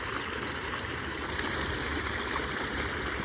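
Water released from a channel flows steadily into a pond in rural rice-field country, a continuous broadband rush and gurgle with no pauses, fairly close and uniform throughout.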